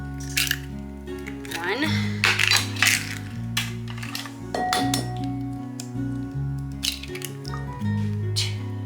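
Two eggs are cracked into dry pumpkin muffin mix, giving close, sharp shell clinks and taps against a bowl, with a soft wet squish. A voice speaks briefly.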